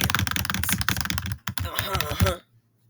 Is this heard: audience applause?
no